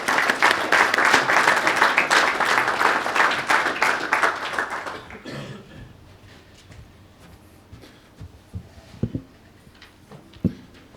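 Large audience at a lunch keynote gives loud sustained clapping that fades out after about five seconds, leaving a quiet room with a few faint knocks and shuffles.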